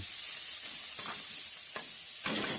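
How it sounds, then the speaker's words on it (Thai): Steady hot-oil sizzle of coarsely minced pork frying over high heat in a wok, with a few scraping stir strokes, close up, no voices. "กระทะร้อนแล้วก็ลงไปเลยครับ หมูสับ สับหยาบหยาบสามร้อยห้าสิบกรัมพอครับ"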